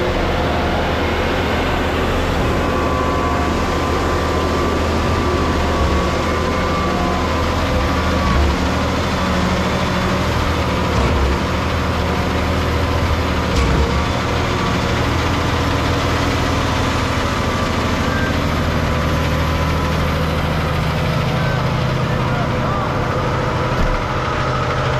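A concrete pump truck's diesel engine runs steadily at a job site pumping basement walls, a loud continuous low rumble with slight surges and no pauses.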